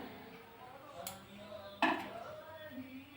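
A metal lid clanks onto a cooking pan holding a simmering fish and taro curry, one sharp ringing clink preceded by a softer knock, in a quiet kitchen.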